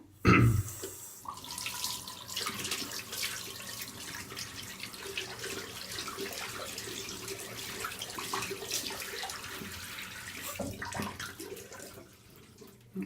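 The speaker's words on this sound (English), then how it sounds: "Just rinse the brush out." A shaving brush with a Cocobolo wood handle and a 26mm tuxedo knot is rinsed under a running tap, a steady close rush of water with splashing changes as the brush moves through the stream.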